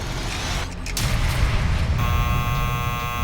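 A low rumble gives way to a steady, electric door buzzer that sounds continuously for the last second or so, fairly close.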